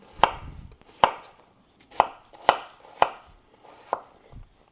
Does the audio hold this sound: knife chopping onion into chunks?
yes